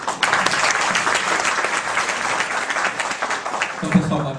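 Sustained applause from an audience at a Fantasticon 2011 literary panel, dense and steady clapping filling the room at moderate loudness, with a voice faintly breaking through near the end.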